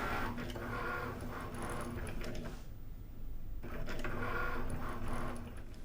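A Cricut cutting machine draws on card stock, its carriage whirring and ticking in steady mechanical runs close by, pausing briefly midway before the motor resumes.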